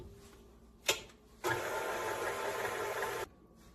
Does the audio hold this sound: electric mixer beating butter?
yes